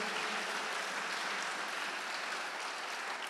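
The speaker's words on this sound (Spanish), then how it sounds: "Dale un buen aplauso a nuestro Dios." A church congregation applauds in a large hall, a broad, even wash of many hands clapping together, steady and fairly distant, with no voices rising above it.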